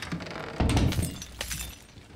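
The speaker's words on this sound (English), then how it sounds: "You continue shattering my lights." Lights shatter in the horror video game Layers of Fear: a sharp glass-breaking crash with a low thump, followed by scattered tinkling fragments that trail off over a couple of seconds.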